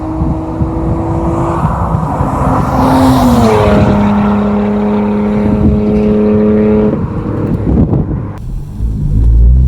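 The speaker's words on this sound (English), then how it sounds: "The exhaust note on this car is amazing." Nissan Altima Coupe 3.5 SE with its 3.5-litre V6 revving and accelerating, a loud throaty exhaust note with rising and falling tones and steady wind noise over the microphone.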